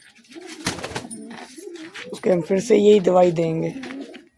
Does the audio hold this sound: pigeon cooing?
yes